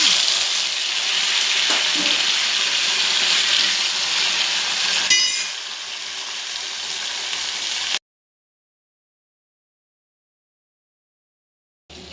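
Tomatoes hit hot oil with cumin, onion, green chili and curry leaves for an Uttar Karnataka ennegai palya, giving a loud, close, continuous sizzle with a brief stirring clatter, then sudden silence.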